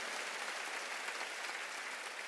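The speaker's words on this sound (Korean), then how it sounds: "박수." A church congregation at a Wednesday worship service claps together in a dense, even roar of applause that holds steady and moderately distant throughout.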